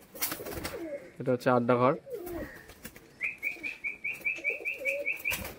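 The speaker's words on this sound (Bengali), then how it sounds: "এই যে এদিকে অধিকাংশ আড্ডা ঘরে সমস্ত পায়রাগুলো রয়েছে ছাড়া" Pigeons in a loft coo in a steady run of soft, repeated calls after someone speaks briefly nearby.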